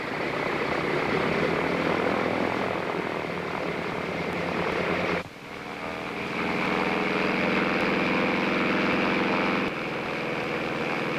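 Propeller engine of a chartered aircraft drones loud and steady, a broad continuous roar with a brief dip midway before it swells back.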